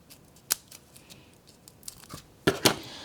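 Scissors snip through a pair of stuck-together Velcro dots cut from a sheet, giving a few faint, isolated clicks followed by a brief crisp double snip near the end, quiet and alone.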